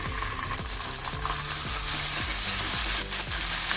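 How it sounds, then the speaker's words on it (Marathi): Green chili and ginger garlic paste sauté in a hot pan for a Mumbai street-style veg frankie, giving a steady, close sizzle with regular rhythmic scraping strokes of a spatula across the pan. "थोडं परतून घ्यायचं, म्हणजे जो कच्चा वास असतो तो निघून जाईल."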